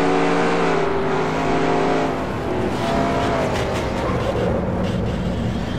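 Race cars in a NASCAR Racing 2003 game replay at Iowa Speedway: a steady, loud engine drone with sustained revving harmonics and pitch shifts as cars pass, with no talk over it.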